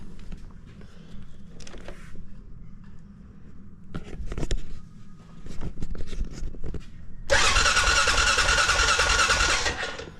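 The starter motor of a Honda Foreman ATV cranks repeatedly without the engine catching, on a quad recently brought back from a dead battery and suspected of a dirty carburetor. The whirring cranking comes close up in separate bursts, ending in a louder, rougher stretch.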